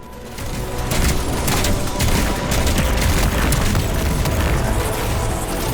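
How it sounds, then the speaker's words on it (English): Grenade launcher explosions in the video game Destiny 2: a dense, continuous barrage of loud booms and blasts rolls on without a break, heavy and close. "Come on, grenade launcher"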